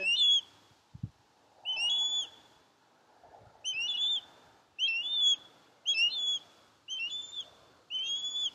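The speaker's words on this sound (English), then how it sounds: "There's a hawk." A hawk calls outdoors in a quiet setting, giving a series of high, piercing cries in short bursts spaced about a second apart, clear and fairly close, with one dull thump early on.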